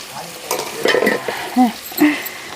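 Bitter gourd frying in a pan with spices, an ongoing sizzle broken by several scraping stirs of a spatula against the pan, close and fairly loud.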